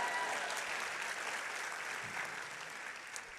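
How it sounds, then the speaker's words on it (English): Steady applause from a commencement ceremony audience, a thick wash of clapping that stays even and then eases slightly toward the end, with no speech over it. "feel free to applaud liberally"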